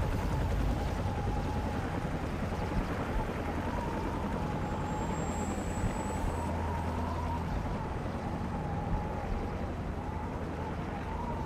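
Helicopter in the video game Call of Duty 4: Modern Warfare Remastered, a steady low rotor and engine drone with a faint whine, continuous and fairly loud throughout.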